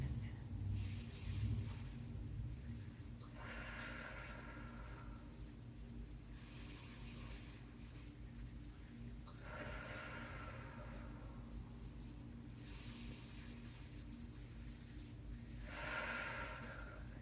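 Slow, deep breaths during a held yoga core pose, with roughly four soft, airy inhale-exhale swells spaced evenly over a steady low background hum; close and fairly quiet, with no talking.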